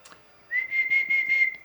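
A person whistles a steady, sustained tune with a few short breaks, clear and close with no talking.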